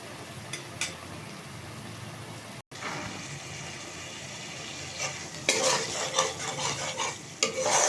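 Spiced masala for a raw jackfruit curry sizzles and fries after sour yogurt is added, with steady frying hiss, scraping stirs, and a burst of louder crackling toward the end.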